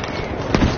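A grenade explodes in the Battlefield V video game: one short burst rises out of busy battle noise and cuts off within a second.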